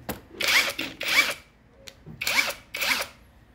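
A DeWalt XR 88V cordless impact wrench is test-run just after unboxing, firing four short, loud bursts of rapid hammering. The bursts are separated by brief pauses and sound close by, with no talking over them.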